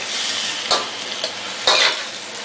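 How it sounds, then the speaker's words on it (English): Mushrooms are tossed and stir-fried in a pot for chop suey, a steady sizzle broken by two louder scraping tosses of the utensil against the metal. "Now we're going to toss in the mushrooms."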